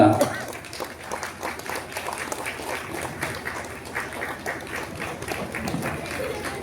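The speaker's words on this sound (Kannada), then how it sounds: "ಕೈ ಚಪ್ಪಾಳೆಯ ಮೂಲಕ" An audience at a felicitation ceremony honouring a yoga athlete claps in a sustained, even round of applause, with a voice audible at the start.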